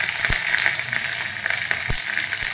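Loud, close sizzling and crackling of a tempering in hot oil for coconut chutney, with steady frying hiss and scattered sharp pops, no voices.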